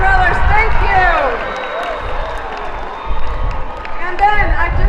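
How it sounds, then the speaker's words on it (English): A school awards-day crowd at a lake event claps and cheers for the student safety patrol, a steady dense wash of applause with scattered shouts and children's voices throughout. "Another little round of applause for our safety patrol that get us here and back safety."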